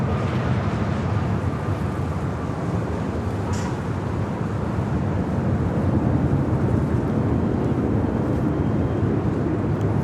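An airliner landing at LAX airport gives a loud, steady, broadband roar with wind buffeting the microphone, sustained and unbroken for the whole stretch without any voices.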